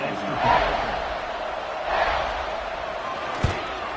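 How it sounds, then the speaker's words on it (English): Crowd at a Florida college football stadium buzzing after a touchdown, a broad steady roar with swelling cheers and one sharp thump, while a commentator talks over it. "this crowd is buzzing after that last score"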